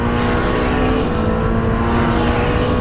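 A Lamborghini Temerario engine revving hard in Corsa mode on a race circuit, a loud, steady high-rpm drone with harmonic whine held throughout, close and uninterrupted.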